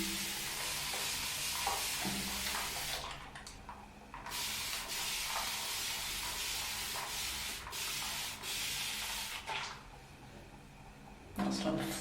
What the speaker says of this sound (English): Continuous spray water bottle.